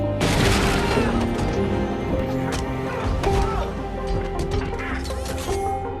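Dense gunfire and crashing impacts fill a chaotic fight scene from the film Iron Man 3, a loud continuous barrage of bangs and booms with mechanical clatter layered throughout.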